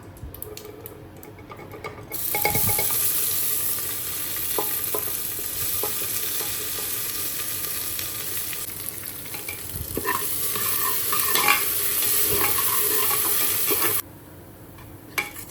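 Crushed spices are stirred in hot oil in a cooker for rasam rice, producing a steady close sizzle with repeated scraping strokes that runs for about twelve seconds and then cuts off.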